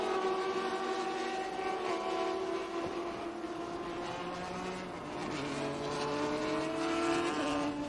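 Vintage Formula 5000 single-seater race cars with big 5-liter V8 engines roar continuously around Indianapolis Motor Speedway, several engines overlapping with rising and falling pitch as cars pass, loud and sustained throughout with no talk.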